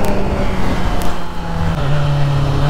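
A Kawasaki Z900 motorcycle engine revs loud and close while the bike pulls a wheelie in second gear, its droning note rising in pitch toward the end with rough buffeting wind noise throughout.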